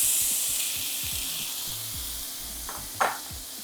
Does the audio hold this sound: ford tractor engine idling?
no